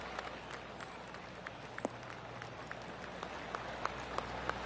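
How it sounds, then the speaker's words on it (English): Golf spectators scattered around the course give sparse, faint claps at a distance over a steady outdoor hiss, with no voices. "I can hear the golf claps around the course."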